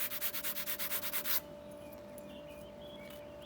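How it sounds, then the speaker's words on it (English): A sanding block rubs the chip legs of a TRS-80 Model 4 in about a dozen quick, even back-and-forth strokes, close and steady, then stops, leaving a faint hum. "a much better way for the chip itself and the legs is a sanding block"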